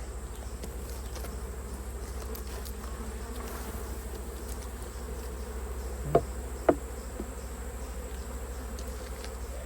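Honeybees buzz steadily around an open hive during an October inspection, a continuous insect hum with a couple of sharp knocks from equipment near the end.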